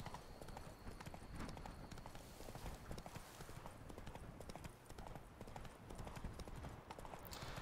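Hooves of the horse Roach clip-clop at a steady walking rhythm on ground in The Witcher 3, a continuous train of soft knocks heard fairly close over a faint background.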